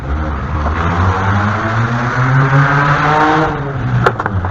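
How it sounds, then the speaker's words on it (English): A loud, rattly junker car rumbles past on a city street, its rough engine droning with strong low harmonics that swell and shift for several seconds, ending in a brief clatter. "When you're making more noise than the damn city streets, yeah, you got a junker"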